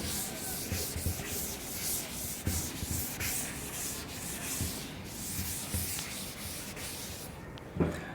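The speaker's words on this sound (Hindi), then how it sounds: "इसको पहले मैं रब कर देता हूँ" An eraser rubs across a board during a photolithography lecture, a steady run of quick, close scrubbing strokes with a roughly regular rhythm and no talk over it.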